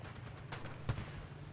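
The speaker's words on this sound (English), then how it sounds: "We both fire one round, but my gun was bigger!" A tank cannon fires in the video game Enlisted, one sharp, booming shot cracking out against a quiet background, with a fainter report just before it.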